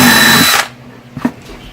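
A power drill with a larger bit bores a 1/2-inch hole in a frozen homestead setting, whirring loudly and steadily for about half a second before cutting off, followed by a couple of faint knocks.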